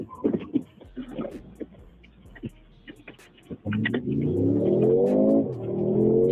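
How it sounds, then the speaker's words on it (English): A car engine roars loudly during a 911 call after a car collision, revving up with rising pitch and holding a sustained growl, after some scattered clicks and clatter. "that engine loud, boy. That thing got some straight horsepower on it"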